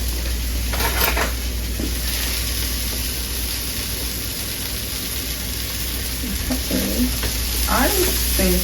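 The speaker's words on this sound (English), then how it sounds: "in the air fryer really quick, I did have a sausage" A hot sausage sizzles and fries steadily in an air fryer, a continuous hiss with a low fan hum beneath, broken by a few light clinks and scrapes of handling near the start and end.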